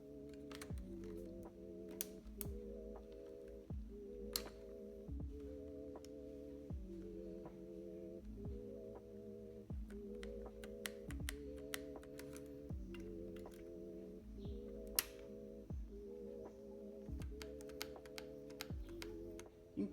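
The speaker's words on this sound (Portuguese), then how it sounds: "é só utilizar aqui o próprio removedor de teclas que já vem aqui com o teclado" Keycaps come off an Akko 5075B keyboard with a keycap puller, a scattering of sharp plastic clicks and snaps close up over a steady, rhythmically throbbing background hum.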